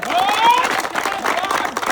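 A studio audience at a game-show final round bursts into brief, loud clapping with some cheering and crowd noise, lasting a couple of seconds.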